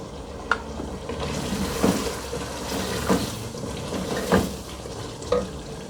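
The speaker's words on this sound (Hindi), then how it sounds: "हल्का सा पानी का छींटा देके फिर हमने मसाले को भून लेना है।" Spices frying in a pan for a chickpea and meat curry (chanay gosht), a steady sizzle with a few sharp stirring scrapes spaced about a second apart, close and fairly loud.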